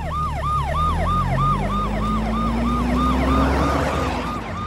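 Several police car sirens wail in repeating up-and-down sweeps as vehicles pull out of a headquarters, loud and continuous over rumbling engines, with a rising engine tone as they drive off.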